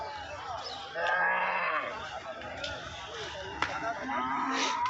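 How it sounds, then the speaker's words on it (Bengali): A Sahiwal cow moos in a long, drawn-out low call, close by at a cattle market, with faint background voices and outdoor noise around it. "এটা আপনার শাহিওয়াল জাতের গরু"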